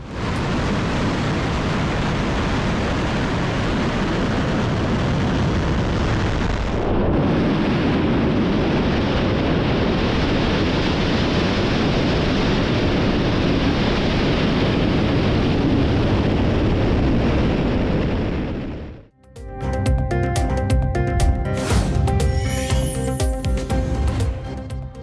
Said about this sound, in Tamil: ரஷ்ய ஆயுதப்படை சார்பில் விண்ணில் செலுத்தப்பட்ட சோயூஸ் ராக்கெட் பாதுகாப்பு நோக்கங்களுக்காக